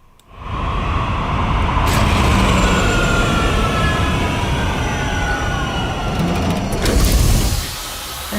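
A custom sci-fi spaceship powering-off effect made for Gameglass rises into a loud, dense mechanical roar with shifting tones, holds steady for several seconds, then cuts down sharply near the end.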